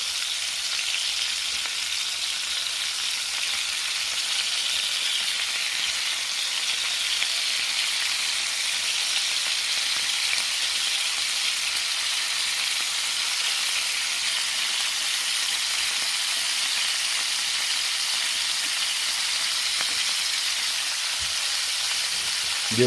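Scallops and shrimp sear in a hot pan with a steady, even sizzle that holds at a constant level throughout, close and alone with no voices.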